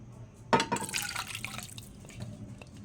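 Sweet and sour sauce pours into a clean pan, starting with a sudden splash followed by a steady, close liquid trickle that fades gradually over a few seconds.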